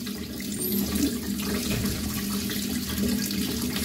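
Tap water runs steadily into a sink while bought groceries are rinsed, a constant close hiss and splash with no talking throughout.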